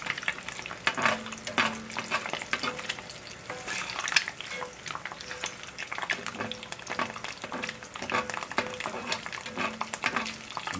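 Thick-cut bacon sizzles steadily in its own bacon grease in a pan, a continuous close crackle and spatter with light scraping or turning sounds mixed in, no talking.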